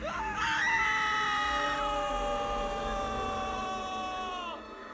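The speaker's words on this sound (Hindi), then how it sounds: "श्वेता और विक्रम की चीखें निकल गईं।" A long drawn-out scream in a horror story, a single sustained shrill cry that rises sharply, holds, then cuts off, loud and close.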